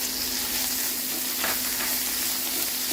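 Steady, dense sizzling of lamb meat frying in a hot pan, continuous and close, with no voices.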